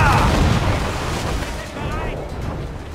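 A deep mortar cannon boom from Assassin's Creed IV Black Flag bursts at the start and rolls away into a fading rumble.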